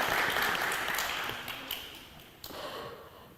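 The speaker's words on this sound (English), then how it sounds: "let's give her a round of applause." A congregation applauds at a church service, a soft wash of clapping that fades gradually over a few seconds, with a brief swell near the end.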